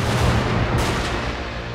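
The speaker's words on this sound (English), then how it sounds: "Now they come under their artillery fire" Artillery fire in the Total War: Fall of the Samurai battle game: a dense, continuous wash of rumbling booms and crackling gunfire that stays loud and steady throughout, with no voices.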